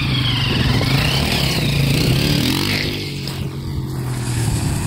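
A Honda CRF dirt bike with a flat tire revs its engine up at close range, pitch climbing and then dropping back toward idle before rising again, with no one talking.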